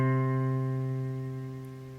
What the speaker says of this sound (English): play the C and the C, very open, you get a nice,